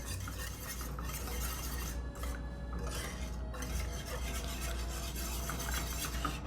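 Heavy cream is stirred into a peppercorn mushroom sauce in a pan, with soft swirling and scraping broken by light clinks of the utensil against the metal.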